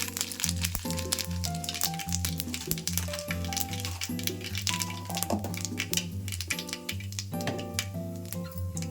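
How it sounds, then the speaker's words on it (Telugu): Mustard and cumin seeds crackle and pop in hot cooking oil with dense, continuous spitting close by, while steady background music plays over the sizzle. "ఆవాలు కొన్ని అలాగే జీలకర్ర కూడా కొంచెం వేసుకుంటున్నాను"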